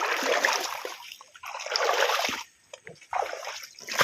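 River water rushing and splashing over rocks in a rural Philippine stream during an eel-hunting outing, a steady close wash of flow that briefly drops away before surging back, with no talk.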